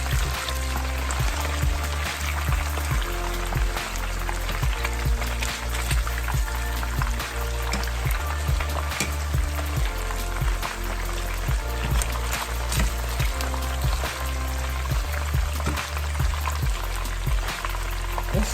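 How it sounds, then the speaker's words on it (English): Fish fries in a deep pot of oil, giving a dense, steady bubbling sizzle that stays loud and close throughout. "the fish is still there, frying, not burning because of the oil, the amount of oil that I have in the pot"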